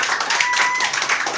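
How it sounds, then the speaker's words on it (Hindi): Clapping from an audience welcoming a teacher on Teachers' Day, a steady dense patter of many hands sustained throughout, close and fairly loud with no talk over it. "तो चलिए एक बार तालियों से स्वागत कीजिए रंजन सर का"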